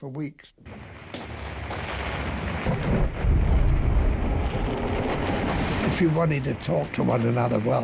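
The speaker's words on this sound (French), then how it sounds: "Car des centaines de canons tiraient en même temps, sans arrêt." Heavy, continuous fire from hundreds of First World War artillery cannons booms and rumbles without pause, with a voice speaking over the din near the end.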